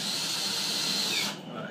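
A drill drives coarse-thread Phillips-head metal screws into pre-drilled MDF during a CNC router build, giving a steady whine that runs for over a second and then cuts off abruptly.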